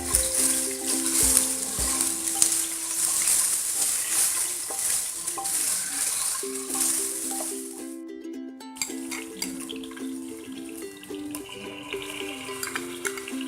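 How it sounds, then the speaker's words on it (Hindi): Mutton frying in hot oil in a pan for Kashmiri rogan josh, a steady bright sizzle with stirring and clinks of a utensil, briefly cut off midway, then frying continues more quietly, no talking. "मटन को तेल में फ्राई करेंगे।"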